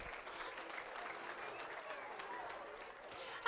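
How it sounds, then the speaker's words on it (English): Soft, distant applause from a county fair crowd at a 4-H market hog show, a thin steady patter of clapping for several seconds that swells slightly at the very end. "Let's give all our heavyweight exhibitors a round of applause."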